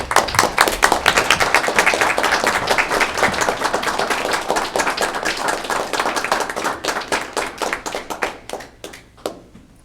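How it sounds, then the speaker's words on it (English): A city council meeting audience breaks into close, loud applause of many hands, full and brisk at first, then thinning into scattered individual claps that trail off at the end. "Clap."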